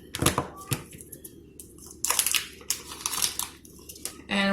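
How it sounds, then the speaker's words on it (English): A knife cutting through salted butter for a cobbler, giving soft irregular taps and crinkly scrapes, close and fairly quiet, with light talking over it. "we're just going to cut up the butter"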